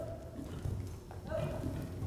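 Hooves of a horse clip-clopping during a show-jumping clinic session, a light rhythmic beat of steps at middle distance, with faint voices and arena noise around it.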